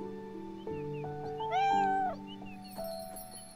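A cat meows in the video game Beyond Eyes, one clear drawn-out mew rising over a soft sustained musical score, moderately close and alone without speech.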